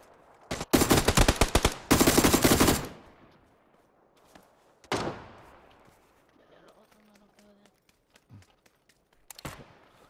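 Bursts of video-game gunfire: a dense volley in the first few seconds, then a few isolated loud shots separated by quieter gaps.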